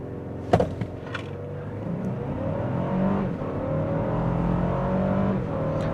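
A 2023 Lexus LX 600 with a twin-turbo V6, ten-speed automatic and four-wheel drive launches from a brake-torque start in Sport Plus, then accelerates hard. A sharp initial burst gives way to a steady, rising engine roar as it pulls through the gears.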